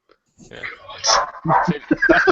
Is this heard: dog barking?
yes